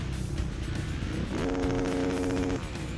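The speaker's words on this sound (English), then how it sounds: "And you hear the panic revving celebration" At a Daytona ATV Supercross race, an ATV engine revs in celebration, climbing sharply into a sustained high-pitched blare over a steady background roar.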